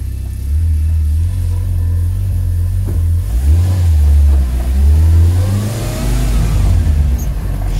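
Oreion Reeper Sport 4x4 engine pulling away in first gear, a loud mid-pitched motor climbing in revs, easing briefly, then rising again over several seconds, close and without talk.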